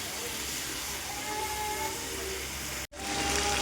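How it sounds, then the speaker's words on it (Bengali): Chicken and potatoes sizzle steadily as they are sautéed in a pan for a fried chicken curry, a constant close hiss with a brief dropout near the end. "চিকেন আর আলু ভেজে রেখে দিয়েছি সেগুলো আমি দিয়ে দিচ্ছি দিয়ে ভালো করে কষাবো"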